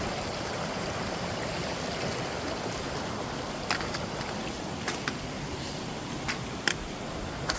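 A stream runs steadily at a water crossing on a hike up Little Stoney Creek, a continuous close wash of flowing water with a few faint clicks and knocks near the end.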